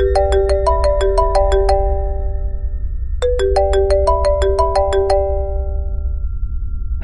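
A loud electronic ringtone plays a bright chiming melody, repeating the same phrase twice with a short gap between.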